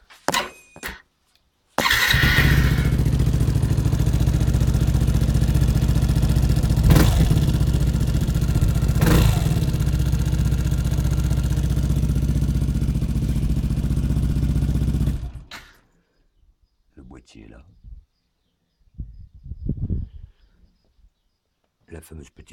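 Small engine starts abruptly and runs loud and close, revving for about thirteen seconds with a couple of sharp bursts, then cuts off, leaving faint clatter and brief voices afterward.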